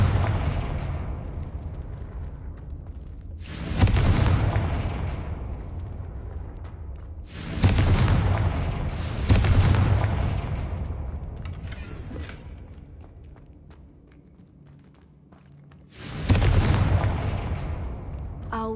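A Confringo blasting spell explodes in the Hogwarts Legacy video game, sounding as four heavy booming blasts spread across the stretch, each a sharp loud burst that rolls off into a long fading rumble, with no talk.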